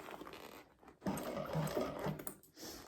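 A sewing machine slowly top stitching a bag, a soft low hum of stitching running for about a second and a half after a brief pause, close but fairly quiet, with no talking.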